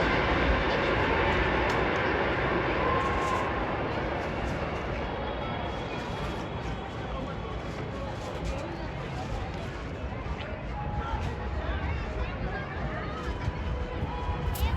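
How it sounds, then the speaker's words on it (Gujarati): A metro train passes through Ahmedabad on a rooftop afternoon during the Uttarayan kite festival, giving a steady, fairly loud broadband rumble that runs throughout, with voices faintly in the background. "આ છે મેટ્રો ટ્રેન અહીંથી પસાર થઈ રહી છે એવી"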